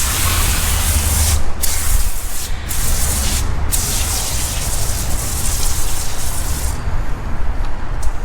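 Diluted wheel cleaner misted from a sprayer onto the wheels of a BMW F80 M3, a steady hissing spray running nearly continuously with a few brief gaps, close and loud.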